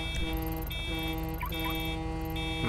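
An alarm inside the video game Shadow Punk, a steady electronic siren tone that keeps repeating and rising in pitch over a low drone, loud and unbroken for the whole stretch with no voices.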